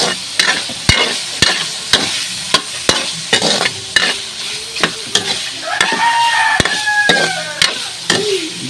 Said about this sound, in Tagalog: papapulahin lang natin yung karne